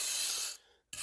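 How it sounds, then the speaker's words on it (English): A wire brush scrubs dust and debris out of a crack in a concrete foundation, giving a close, dry rasping scrape that breaks off briefly and then resumes. "wire brush, and we're just going to go through and just clean all this stuff out of here"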